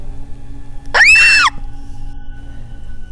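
A woman lets out a single shrill scream in a horror story, a sudden, loud, wavering cry lasting about half a second against a quiet background.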